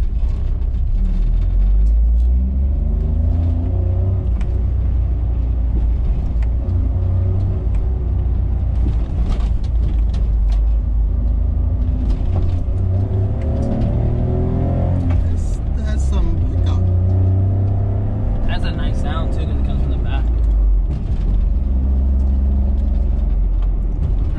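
A Honda K-Van kei van drives along, its engine rumbling low and steady from inside the cabin with rising revs at moments, while people talk over it.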